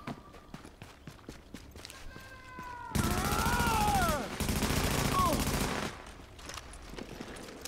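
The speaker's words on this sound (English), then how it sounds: "I'm getting shot at by NPCs" Enemy NPCs open fire on the player in The Division, a loud sustained volley of rapid gunshots lasting a few seconds, preceded and followed by quieter footsteps and movement.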